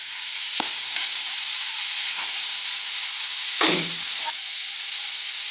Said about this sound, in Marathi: 2 मिनिट आपण आता सगळे व्हेजिटेबल्स फ्राय करून घेतलेले आहे